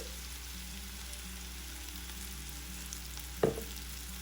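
Onion with chilli powder and garam masala frying in a pan for an onion curry, a steady low sizzle with a single sharp clatter of stirring near the end.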